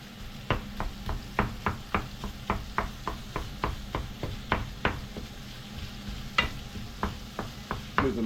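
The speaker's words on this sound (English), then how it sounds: "Keep chopping up our meat." Meat being chopped on a board beside a pan, with steady sharp knife strikes, around twenty evenly spaced and fairly close, over a soft continuous sizzle, no talk.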